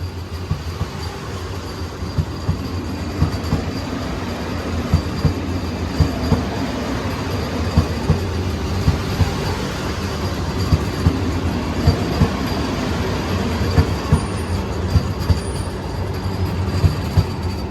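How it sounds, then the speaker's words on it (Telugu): The Yesvantpur-Kacheguda Vande Bharat Express overtakes at Penukonda, a steady loud rumble of wheels and rail clatter with dense rhythmic clicks running the whole time, heard without voices. "యశ్వంత్పూర్ కాచిగూడ వందే భారత్ ఎక్స్ప్రెస్ ఏమో ఓవర్టేక్ చేస్తుంది అనమాట"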